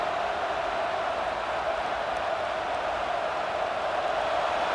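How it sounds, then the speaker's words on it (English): Stadium crowd noise from an Alabama vs. Auburn Iron Bowl simulation in College Football 26 on PS5 swells into a steady, dense roar with no clear breaks, filling the background without any talk over it. "this crowd coming to life here, trying to help the defense get a stop with the offense pinned back"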